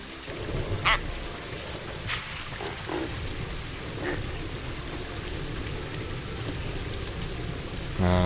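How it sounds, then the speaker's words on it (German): Steady rain hisses continuously in the zoo-building video game Planet Zoo, a constant even wash of drops with a few faint animal calls breaking through. "Ganz schade, dass es regnet."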